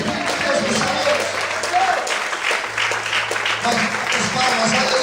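A church congregation applauds continuously in a dense, steady wash of clapping, with a voice talking and calling out over it throughout.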